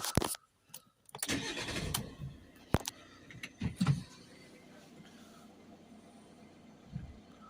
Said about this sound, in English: we're going to start the van up